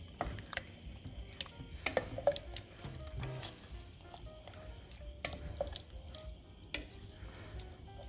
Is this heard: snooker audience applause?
no